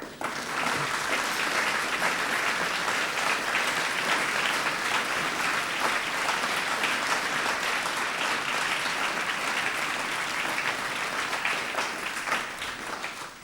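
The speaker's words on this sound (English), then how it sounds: "I now invite you, graduands, to applaud them in appreciation of their support to you." Graduands at a UMIST University of Manchester graduation ceremony applaud their families, a sustained, dense roar of many hands clapping in a large hall that holds evenly for several seconds before easing at the end.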